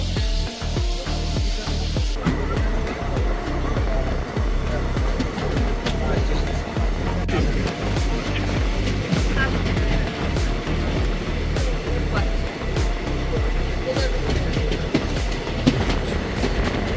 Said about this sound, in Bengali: আমাদের ট্রেন কিন্তু রাইট টাইমে কাটোয়া স্টেশনের 4 নম্বর প্ল্যাটফর্ম থেকে ছেড়ে দিল